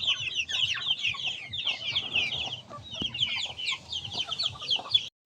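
Mixed-breed chickens and chicks clucking and chirping continuously in a close, busy chorus, with a brief pause near the end and no talking.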